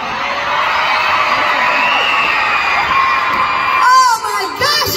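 A large crowd of children at a concert in Sacramento screams and cheers continuously, a loud, sustained roar with shrill whoops, easing briefly near the end.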